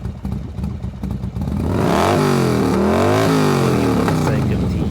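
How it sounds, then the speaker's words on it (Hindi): A motorcycle engine rumbles up and revs loudly and close for an audio drama scene, sustained roar with rising and falling pitch, under a narrating voice at the start. "एक मोटरसाइकिल की गड़गड़ाहट की आवाज"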